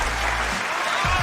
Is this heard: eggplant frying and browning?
no